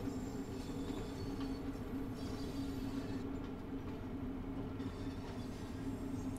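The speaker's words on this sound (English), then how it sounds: "I've just shut off the power at this point to allow the train to coast" A Bakerloo Line train in Train Sim World 2 coasts with the power off toward Harrow & Wealdstone station, giving a steady low rumble of wheels and running gear with a faint tonal hum, continuous and without speech.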